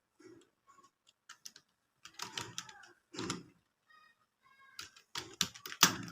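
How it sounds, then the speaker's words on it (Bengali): Keyboard keys clicking in short bursts while a new channel name is typed, crisp close taps with pauses between clusters, alone without talking. "লিখব প্রিন্স"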